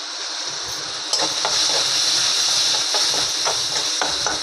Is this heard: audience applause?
no